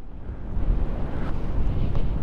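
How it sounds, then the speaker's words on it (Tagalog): Strong wind buffeting the microphone during an off-road ride on a Yamaha MT-09 motorcycle, a heavy low roar with gusty surges and no voices, loud and close. "Sobrang lakas ng hangin"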